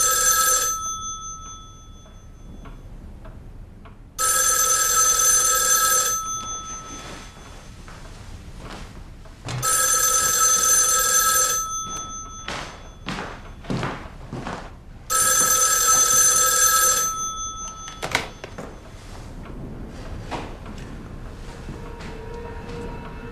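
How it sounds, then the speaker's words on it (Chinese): An old-fashioned telephone bell rings in three long bursts separated by pauses, loud and close indoors, with small handling and movement noises between rings. "你们叶局长电话"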